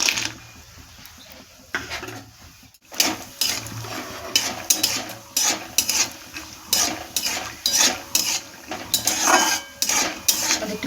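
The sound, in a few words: peanuts frying in hot mustard oil in a kadai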